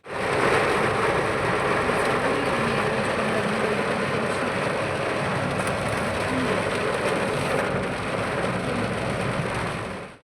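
Steady, dense rain falls on a hilly ghat road near Kodaikanal, a continuous broadband wash with no breaks and no voices, loud and close throughout.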